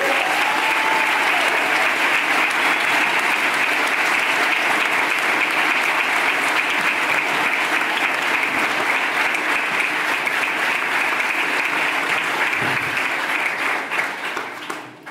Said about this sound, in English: Can we have a round of applause for this kitchen?